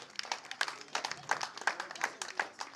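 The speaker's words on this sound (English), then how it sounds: "Can we give a round of applause?" An audience applauds at a Nigerian film-industry gathering where Kunle Afolayan honours actors such as Saidi Balogun and Faithia Williams, with a spread of quick, irregular claps at moderate volume and fairly close, filling the moment without speech.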